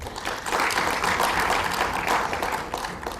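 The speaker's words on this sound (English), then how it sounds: "I'd like to ask the audience to give you an applause." An audience at a high-level food and nutrition security event applauds steadily, a moderate, even spread of clapping throughout.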